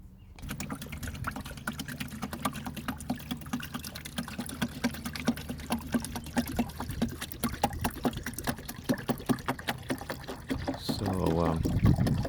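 Tap water runs steadily into a bucket of soapy car-wash mix for a W124 Mercedes-Benz 300CE, a continuous pouring rush with rhythmic ticking throughout, swelling into a fuller gurgling fill near the end.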